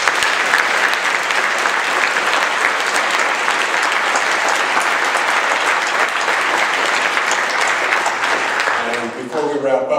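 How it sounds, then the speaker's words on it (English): Audience at a congressional candidates forum in Thousand Oaks, California, applauding in a steady, sustained round of clapping that thins out near the end. "They deserve a wonderful round of applause."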